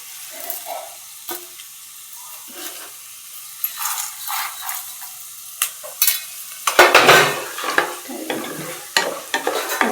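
Chana dal and urad dal frying in a pan while being stirred, heard as close scraping strokes and rattling lentils over a soft sizzle, with the stirring growing louder and busier in the second half.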